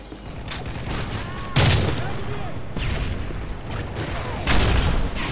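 A grenade explodes in the Modern Warfare 3 video game with a sharp boom, amid ongoing gunfire and a second blast later, loud and close against battle noise.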